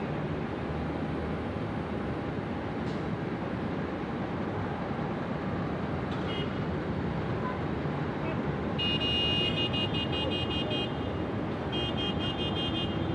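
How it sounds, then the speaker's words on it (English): Car horns near Sydney Airport at a plane-spotting spot sound in short bursts of repeated, bright tones late in the clip, over a steady, loud roar of wind and traffic noise. "I can hear your horns."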